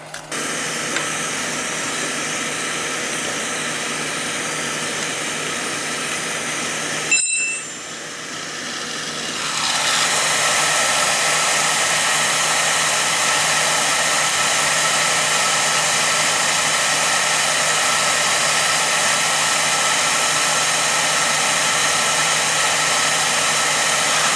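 Oil burner blower roaring steadily in purge mode during a nozzle and filter service, a brief thump and dip near seven seconds before the broadband air rush swells louder and holds constant to the end.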